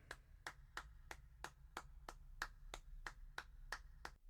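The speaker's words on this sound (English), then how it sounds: "Everybody, clap your hands." Hands clapping in an even, steady beat, about a dozen crisp claps spaced roughly a third of a second apart, clear and isolated over a faint low hum, with no talk.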